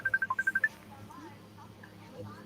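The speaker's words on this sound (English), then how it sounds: "That must be Miss Peggy's phone" A phone rings with a quick run of high electronic beeps, about nine short tones in a fast pattern, and then voices talk faintly in the background.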